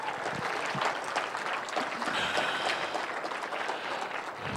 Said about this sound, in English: another round of applause for the governor and the provost